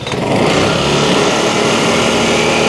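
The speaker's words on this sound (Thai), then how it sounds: "เครื่องแน่นมาก แล้วคุณผู้ชมฟังเสียง" A Vespa GTS150 scooter with an i-get engine, about 900 km on it, idles close by, a steady loud buzzing engine note that holds even for the whole stretch, with no talking.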